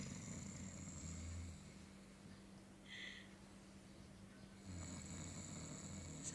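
A man snores while asleep at home, with two long raspy low snores, a quieter pause between them and a brief higher sound in the middle, all faint and close.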